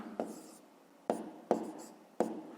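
Pen strokes writing out a fifth-grade math exercise with fractions on paper, four short sharp scratches at uneven intervals, close and clear against near silence, with no voices.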